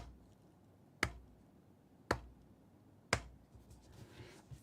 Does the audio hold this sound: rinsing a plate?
no